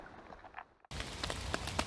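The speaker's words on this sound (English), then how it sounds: "can't pack up while it's raining this much" Heavy rain falling on a rainy day by a carp fishing spot in Norwich, Norfolk, a dense steady hiss of drops that cuts out for a moment and then returns louder and close.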